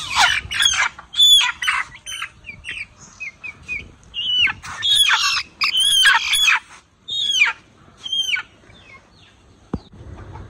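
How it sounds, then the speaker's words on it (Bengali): Home-raised chickens on a rural homestead squawk and cluck loudly nearby. The calls come in repeated raucous bursts separated by brief pauses, with a single sharp knock near the end. "আম্মা নিজের হাতে পালা মুরগি"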